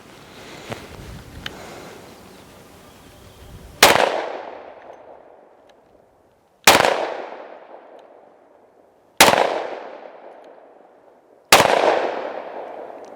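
Four loud, sharp pistol shots from a Smith & Wesson M&P 2.0 in 10mm firing Buffalo Bore 220-grain rounds ring out outdoors at a slow, even pace. Each blast is followed by a long decaying echo, and the handling before the shots is quieter.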